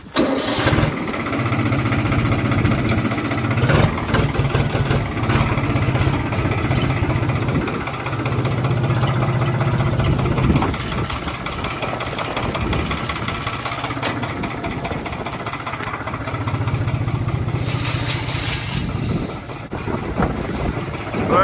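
A 54C tractor engine runs with a fertilizer spreader while wheat is fertilized, a steady loud mid-pitched rumble heard close for the whole stretch, its tone rising and settling slightly at times, with no talking.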